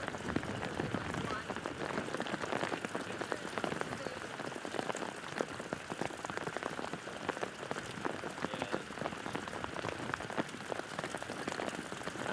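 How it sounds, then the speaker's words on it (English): Steady rain pours over an outdoor water ski slalom competition course, a dense continuous hiss of drops striking water and surfaces that stays even and loud throughout. "Looks like the rain's still continuing to go through."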